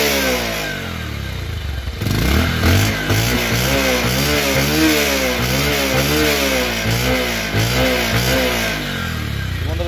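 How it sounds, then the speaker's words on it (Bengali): A Bajaj Pulsar 150cc motorcycle engine revs repeatedly, its pitch climbing and falling in a regular series of throttle blips over a steady idle. Loud and close, with no talking. "বাইকটির ইঞ্জিন সাউন্ড শুনুন।"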